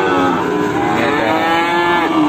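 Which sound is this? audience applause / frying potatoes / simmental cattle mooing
simmental cattle mooing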